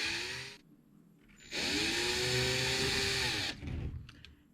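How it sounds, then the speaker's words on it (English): A quarter-inch drill bores through a bird feeder tube. A short whine is followed by a louder, sustained grinding whir of roughly two seconds, then the drill spins down. The sound is close and quiet, with no talk. "you're going to take a 1/4 inch drill and go through the tube"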